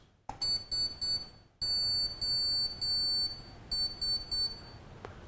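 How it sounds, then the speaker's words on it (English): A microcontroller board's buzzer beeps SOS in Morse code: three quick high-pitched beeps, three longer tones, then three short beeps again. The beeps are loud and close and stand alone without speech. "I'm going to show you how to implement an SOS message in Morse code."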